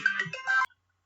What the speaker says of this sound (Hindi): इस जगह पे फोन आ गया था मेरा